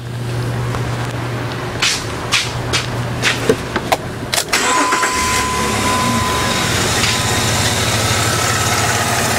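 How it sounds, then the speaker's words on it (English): An engine cranks with a few sharp bursts, then catches and settles into a steady, continuous idle that runs close by to the end. "Start the engine."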